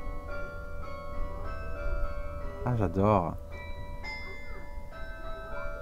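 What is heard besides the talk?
church carillon bells ringing, Notre-Dame de La Drêche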